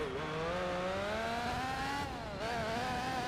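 Racing car engine in Gran Turismo 4 during a World Championship race: a continuous high revving drone that climbs steadily in pitch, dips briefly at a gear change, then climbs again, loud and alone.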